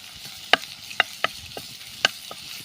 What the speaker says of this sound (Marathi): थोड्याशा तेलावरतीच आपण हे परतून घ्यायचं आहे, म्हणजे मिरचीचा कच्चेपणा निघून जाईल.